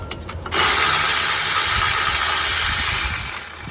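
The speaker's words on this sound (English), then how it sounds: "And now I'll go ahead and put that on my electric ratchet." An electric ratchet removes a bracket during a wheel hub and bearing replacement on a 2006 Buick Rendezvous, a loud, continuous motorized whir that starts abruptly and runs for about three seconds, close by.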